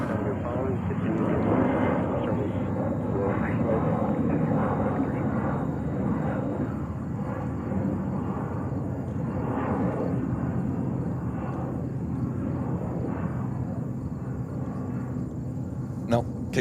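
A KLM airliner taxis at JFK airport in New York, producing a steady, distant jet engine rumble and whine. Radio-style talk continues throughout over the engine noise.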